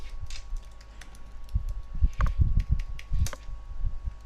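Rapid, irregular keystrokes as a password is typed on a computer keyboard, close and distinct over a low steady hum, in short bursts with brief pauses.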